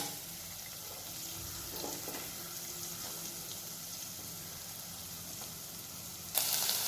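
Onions sautéing in a pan for a paneer and green peas pulao, a faint, even background sizzle with a few soft stirring scrapes, ending in a sudden louder hiss.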